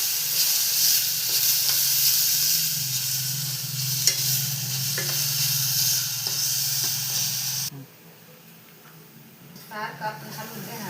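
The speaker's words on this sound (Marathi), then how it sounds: "हे आपण बारीक गॅसवर असं परतून घेणार आहे" Modak filling of sugar, cardamom powder and nutmeg being sautéed and stirred in a pan on a low flame, a soft continuous sizzle with scraping stirs that drops away near the end as the cooking noise quiets.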